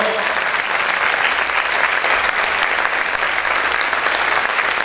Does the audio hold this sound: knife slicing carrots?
no